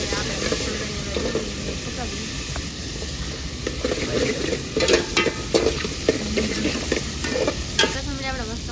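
Onions and tomatoes fry in a pan with a steady broadband sizzle, broken by repeated scraping strokes of a spoon stirring them, close and fairly loud throughout, with a voice talking faintly underneath.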